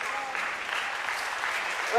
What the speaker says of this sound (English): And there's the applause.